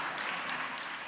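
A congregation claps for the pastor during a Sunday praise service in a church, a dense, steady burst of applause that fills the whole brief moment.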